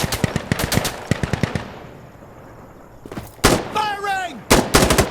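Gunfire in the video game Insurgency Sandstorm: rapid automatic bursts of loud, close shots, a brief lull, then more bursts, with a short voice call between them.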